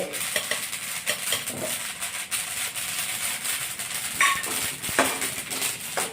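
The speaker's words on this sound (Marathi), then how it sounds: "असे पूर्ण लाया होईपर्यंत जवळ भाजून घेणे" Fennel seeds being stirred and dry-roasted in a pan, a steady scraping rustle with light clinks of utensil against metal, fairly close and continuous with no talking.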